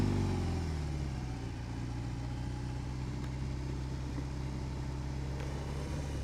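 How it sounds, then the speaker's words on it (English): A 2022 BMW R18 Classic motorcycle with its Boxer 1800 engine runs steadily, a loud, deep, rumbling drone with a slight judder that stays constant and close throughout, with no voices. "That amount of torque in this engine, this Boxer 1800."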